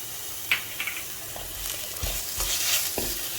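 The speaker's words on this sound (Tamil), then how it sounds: "ப்ரௌனாக ஆகிற டைமில் நான் இந்த இஞ்சி பூண்டையும் போட்டுடுறேன்." Onions fry in a pan with ginger and garlic for a South Indian mutton drumstick kuzhambu, giving a steady sizzle broken by scraping stirs, with no talking.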